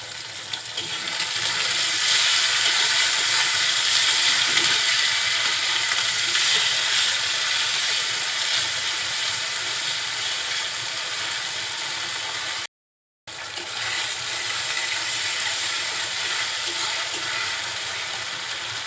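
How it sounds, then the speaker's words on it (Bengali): Cumin, ginger and garlic paste frying in hot oil, giving a loud, steady, dense sizzle that holds throughout, broken only by a brief moment of silence near the end. "তেলের সাথে মশলাটা খুব সুন্দরভাবে কষিয়ে নিচ্ছি"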